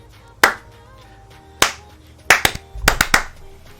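Sharp single hand claps ring out in a quiet room as a sync test for a Lords Mobile game stream, spaced irregularly with a quick burst of several claps near the end.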